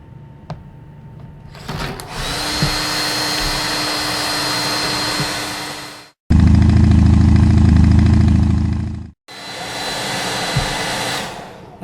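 A loud handheld dryer blows on painted artwork in long, steady bursts. It cuts off briefly, restarts with a deeper roar, stops, then runs again at the higher pitch.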